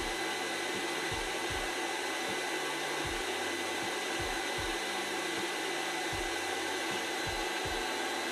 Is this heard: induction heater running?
yes